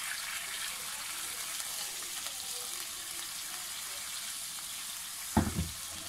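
Sweet teriyaki chicken sauce with toasted sesame seeds simmers in a pan with a steady, soft sizzle, and a single utensil knock sounds near the end.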